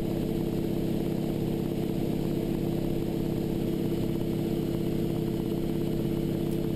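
Steady, continuous engine drone inside the cockpit of a North American AT-6 in flight, with the throttle pulled back for cruise; the rumble holds an even level throughout and no one speaks.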